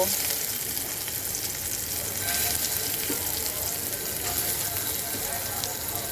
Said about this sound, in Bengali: এইখানে আমি সয়াবিনটা ভাজার জন্য তেল গরম করতে বসিয়ে দিয়েছিলাম এখন আমি সয়াবিনগুলো ভেজে নেব